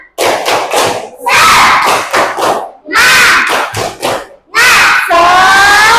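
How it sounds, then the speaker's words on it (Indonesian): A third-grade class in an Indonesian school performs a spirit clap chant: loud, close group shouting in several rhythmic bursts, punctuated by thumping claps, with short pauses between phrases. "Tepuk semangat."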